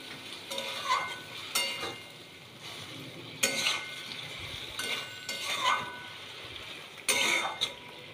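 Okra bhapa is stirred and mixed in a pan, with soft sizzling under intermittent bursts of spoon scraping and a few light clinks against the metal, close and fairly quiet, with no voices.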